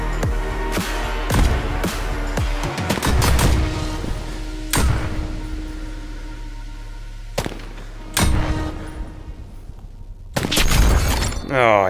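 Rapid gunshots and shattering impacts from the VR shooting game Pistol Whip, loud sharp blasts in dense bursts and isolated shots over a thumping music beat.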